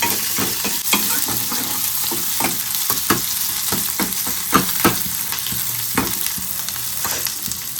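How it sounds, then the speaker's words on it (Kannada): Onions, chillies and curry leaves sizzle and crackle steadily in hot oil for sambar, with scattered sharp ticks and stirring scrapes close up and no talking. "ಈರುಳ್ಳಿ ಮೆಣಸಿನ್ಕಾಯಿ ಒಂದು ಮತ್ತು ಕರಿಬೇವು ಎಲ್ಲ ಹಾಕ್ಕೊಂಡು ಚೆನ್ನಾಗಿ ಫ್ರೈ ಮಾಡ್ಕೊಳ್ಳಿ"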